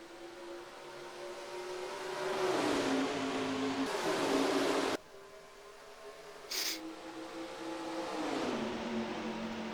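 Stock cars racing at Atlanta in NASCAR Racing 2003 drone steadily with loud engine tones, pitch shifting as cars pass and gear down, broken by a brief cut and a short hiss partway through.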